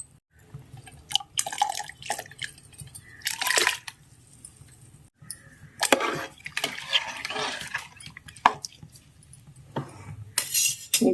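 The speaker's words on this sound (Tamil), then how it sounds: "இப்போ பார்த்தீங்கன்னா அடுப்பில் தண்ணி கொதிக்க ஆரம்பிச்சிருச்சு" Water coming to a boil in a pot on a kitchen stove while ven pongal is cooked, with rice about to be added. Soft bubbling and dripping come through between intermittent clattery bursts, with no talking.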